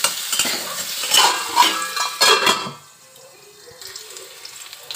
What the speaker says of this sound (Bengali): তারপরে আলুগুলো একটু ভালো করে ভেজে নেব